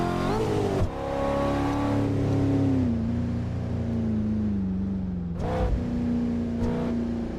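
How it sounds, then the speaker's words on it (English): A Cadillac CT5-V engine in Assetto Corsa on LA canyon roads revs up and down, a steady close engine drone rising and falling in pitch, with quick gear shifts breaking the tone twice. "We're driving a Cadillac CT5V"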